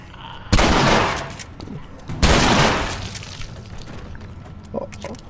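Two loud shotgun blasts boom in The Last of Us Remastered, each with a long decaying roar, a couple of seconds apart, followed by lighter mechanical clatter in a hotel setting.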